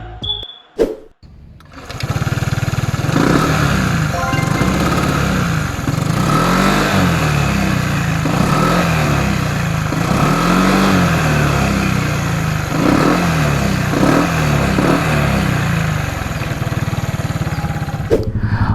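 An FKM MTX 150 hybrid motorcycle pulls onto a main highway at Subic Bay, its engine droning steadily and close with a continuous rising and falling hum under wind noise after a brief quiet start.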